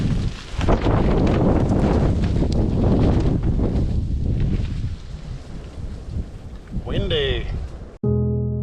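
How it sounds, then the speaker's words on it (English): Strong winter wind at a campsite buffets the microphone in loud, continuous low roaring gusts for several seconds, ending abruptly in a brief mechanical tone. "Windy."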